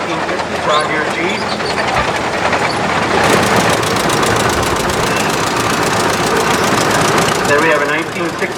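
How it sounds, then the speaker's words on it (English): A 1950 John Deere G tractor engine runs in a September tractor parade, a steady loud mechanical drone with rhythmic chugging throughout, mixed with outdoor crowd noise and voices. "Henry Wagner from Watson on a 1950 John Deere G."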